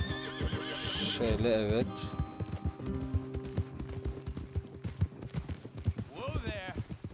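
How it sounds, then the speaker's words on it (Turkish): Horses in the Red Dead Redemption 2 video game whinny loudly and repeatedly over steady clip-clopping hooves, with someone speaking briefly in the mix. "Whoa there. Off your horses here."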